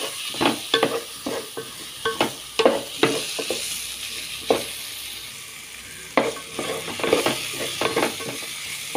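Aromatics sizzle in hot oil in a pan for Goan prawn pulao, with steady frying crackle under repeated scrapes and clinks of a spoon stirring against the metal.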